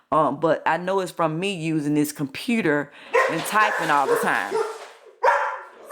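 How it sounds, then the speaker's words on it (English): Several dogs bark in the background of a home recording, sharp yaps and bow-wows breaking in between and under a woman's close, steady talking. "Excuse my dogs in the background."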